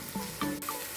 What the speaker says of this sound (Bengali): এবার ভাজতে থাকি এরকমভাবে